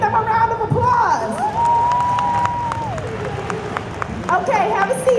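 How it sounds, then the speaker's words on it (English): Audience applause and cheering for five drag queen contestants in a room full of queens, a continuous crowd wash of clapping with whoops and a sustained voice over the noise, talk mixed in. "Give them a round of applause."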